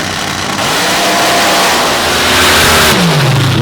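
Drag racing car from the MRA Finals open and mods class launching down the track, a loud engine roar that rises in pitch as it accelerates away, with a steady crowd and track wash underneath and no talk.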